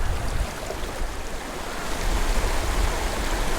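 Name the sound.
mountain stream water flowing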